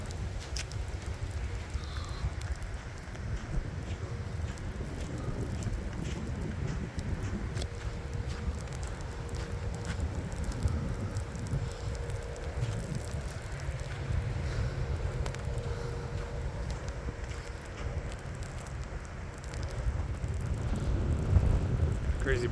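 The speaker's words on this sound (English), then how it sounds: "Oh, the wind is getting strong." Strong wind roars steadily through a lake effect snowstorm, a continuous low rumbling buffet that swells louder near the end, close to the microphone.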